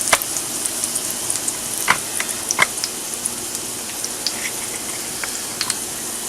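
Potato pancakes sizzle in a heavy cast iron skillet, a steady hiss of frying broken by sharp pops and spits, with no talking.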